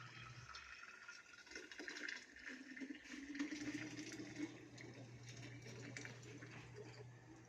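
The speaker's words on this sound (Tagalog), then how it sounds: "Sasalin ko muna ang tubig." Water pours steadily into a container, a soft continuous splashing and gurgling with no voices.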